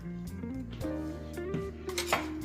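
Collard greens being stirred in a pot, with soft clinks and scrapes of a utensil against the metal over a steady background hum, close by and without talk.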